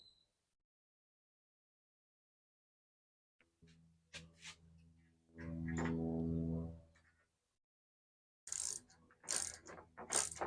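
A nut is tightened on a threaded rod with a lock washer in a carpentry setting, giving short close metallic clicks and scraping bursts between quiet pauses, ending in a louder rattling run.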